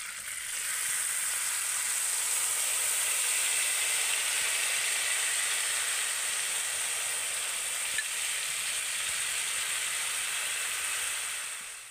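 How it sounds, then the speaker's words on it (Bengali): A strained mustard-and-water mixture hitting hot oil in a pan during fish curry cooking gives a steady, even sizzling hiss that holds at moderate loudness throughout, with no talking. "এবারে আমি যে সর্ষের মিশ্রণটা জলের মধ্যে গুলে রেখেছিলাম সেটাকে ছাঁকনির সাহায্যে ছেঁকে দেব।"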